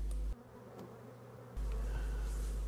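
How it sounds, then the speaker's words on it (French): Honeybees fighting outside a hive around a six-frame nucleus box, a steady close buzzing drone that drops briefly quieter before swelling back loud, with no voices. "il y a un petit peu la bagarre entre les abeilles à l'extérieur"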